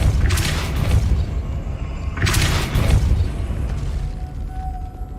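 Two Depulso spell blasts in Hogwarts Legacy, each a loud whooshing boom with a rushing, noisy tail, a couple of seconds apart, then a faint fading hum.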